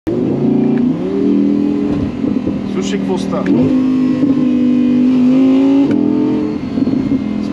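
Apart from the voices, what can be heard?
Audi R8 V10 Spyder engine revving in Dynamic mode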